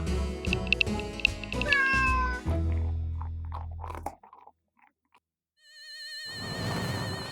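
Two cats meow in a cartoon scene at feeding time, with a few high, bending meows near the start over a dense musical backing. A drawn-out mew follows after a short silence.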